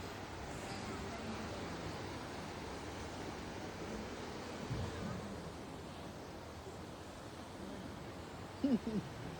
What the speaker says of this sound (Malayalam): ആ പാറക്കെട്ടിൻ്റെ ഇടയ്ക്കൂടി കിടിലൻ തിരമാലകൾ ഇങ്ങനെ അടിച്ചു വീശുന്നു